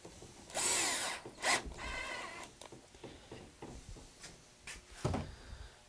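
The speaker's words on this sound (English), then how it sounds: "I'll drill the holes for these parts here and we'll assemble this" A power drill bores holes in wooden parts for a ski chair in short, close bursts of whirring mixed with clunks and handling knocks from the workpiece.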